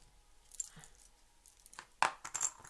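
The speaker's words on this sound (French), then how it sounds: "Tirer les dés, les noter." Dice clatter and rattle on a hard surface in two bursts during a Chinese astrology reading, a light roll followed by a sharper, louder tumble with clicks.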